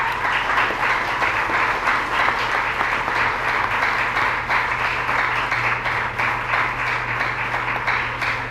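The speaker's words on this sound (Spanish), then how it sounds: "Aplaudo al Señor en este día." A church congregation applauds, a dense and continuous wash of clapping that holds steady and fairly loud throughout, with a low hum underneath.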